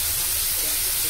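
Ground spices such as turmeric and coriander powder fry in hot oil, giving a steady, dense hiss and sizzle. The sound is close and continuous over a short stretch.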